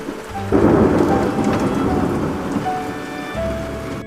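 Heavy rain pours steadily while deep thunder rumbles loudly overhead, forming a constant stormy roar with no voices.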